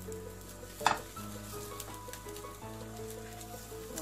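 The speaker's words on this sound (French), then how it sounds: "on les met à cuire à petit feu pour qu'ils ne brûlent pas" Rfiss galettes cook in a little oil in a pan over low heat, giving a soft, steady sizzle with an occasional utensil clink, faint and close, with no voices.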